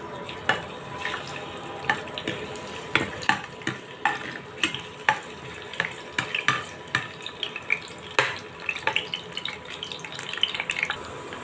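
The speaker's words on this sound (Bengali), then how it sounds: "এই যে আমার রসুনটা কিন্তু ভাজা হয়ে গেছে" Garlic frying in hot oil in a pan for a beef dish, with a steady sizzle and crackle broken by frequent sharp clinks and scrapes of stirring, close and moderately loud.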